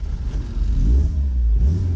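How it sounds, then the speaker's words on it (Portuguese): A Ford Escort XR3 convertible with the CHT engine revs loudly close by, its deep engine note rising and swelling in two quick surges of throttle, with no voices. "Cara, esse som do R3, eu acho que o som do CHT é muito legal"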